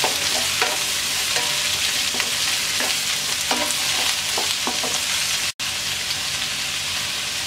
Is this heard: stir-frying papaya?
yes